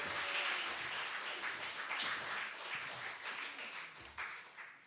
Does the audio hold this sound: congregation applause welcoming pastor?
yes